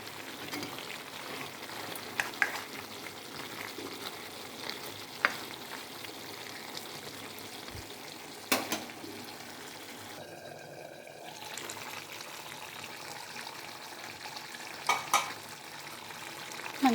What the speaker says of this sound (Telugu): మంచిగా ఉడుకుతూ ఉందండి